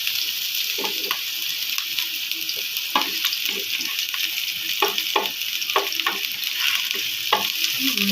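Garlic and ginger sautéing in a pan, a constant bright hiss of frying with intermittent scrapes and knocks of a spatula stirring, close up and without speech.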